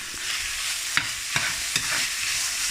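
Ground beef cooking in a pan with beef broth just added, sizzling steadily while a spoon scrapes and stirs in a few distinct strokes, close and moderately loud, with no talking.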